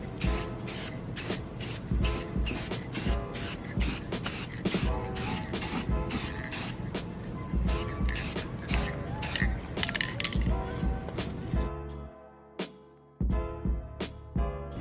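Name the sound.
spraying second coat of clear coat on headlight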